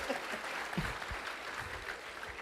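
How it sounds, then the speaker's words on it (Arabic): An audience at a religious lecture by Sheikh Sulaiman al-Jubailan breaks into dense, steady applause. The clapping stays even and fairly close for the whole short stretch, with no clear voices on top. "صفقوا لي الله يجزاكم خير"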